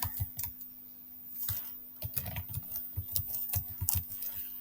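Close, soft keystrokes click on a computer keyboard during code entry, arriving in uneven clusters over a steady low electrical hum.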